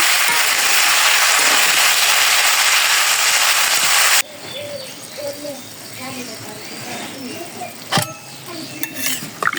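A pan of food seasoned with turmeric powder is stirred, with a loud broad sizzle for the first few seconds, then quieter scraping and clinks with a couple of sharp knocks, while a voice speaks.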